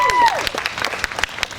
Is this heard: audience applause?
yes